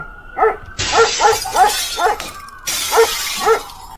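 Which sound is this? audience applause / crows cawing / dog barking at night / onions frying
dog barking at night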